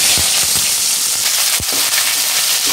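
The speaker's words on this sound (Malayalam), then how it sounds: "കടുക് പൊട്ടി. ഇനി നമുക്ക് ഇഞ്ചി വെളുക്കാം." Mustard seeds and ginger sizzle in plenty of hot oil for a rose apple pickle, a loud continuous frying hiss broken by a few sharp pops from bursting seeds.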